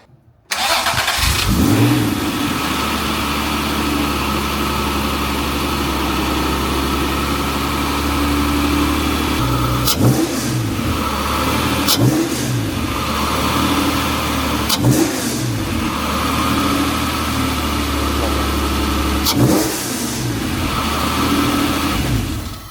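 An Acura NSX with its stock intake cranks and fires up, settles into a steady idle, then gets several sharp revs spaced apart, loud and close with no talk.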